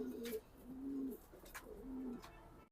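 Racing pigeons in a cage give soft repeated cooing calls, close and fairly quiet, in a steady rhythm with no talking.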